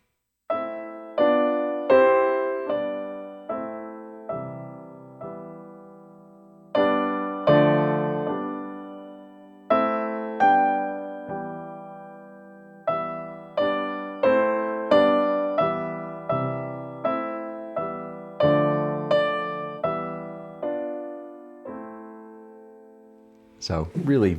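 A piano plays a reharmonized chord progression in steady quarter-note chords, each struck cleanly and decaying, with phrases separated by brief pauses, solo and close.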